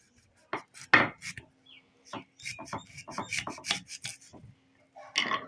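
A knife cuts raw wild mango on a board, heard as a series of short scraping and rasping strokes at uneven intervals, fairly close and clear against a quiet background.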